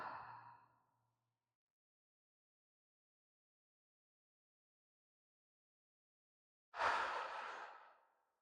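Two separate breaths during a yoga posture exercise: a soft breath fading at the start, then after a long silence a sharper, fuller exhale close to the mic.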